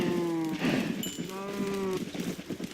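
Cattle mooing in a Minecraft animal farm, game-style moo calls repeating in close succession, two long tonal lowing calls standing out over a busy backdrop of other farm animals.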